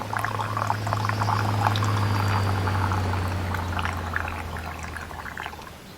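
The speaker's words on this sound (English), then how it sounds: "I'm pouring it from high up so it can cool down a bit quicker" English Rose scented tea poured from high up into cups, a steady close splashing stream of liquid lasting several seconds and heard alone.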